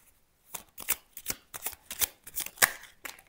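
Tarot and oracle cards are shuffled by hand in quick, soft riffling bursts close up, each flurry of papery slaps a little louder, ending with a sharper snap as a card falls out.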